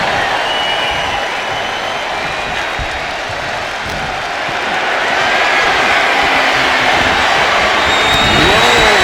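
A wrestling arena crowd in the WWE 2K25 video game cheers and roars continuously, a loud, dense wash of noise that swells toward the end, with scattered whistles and applause.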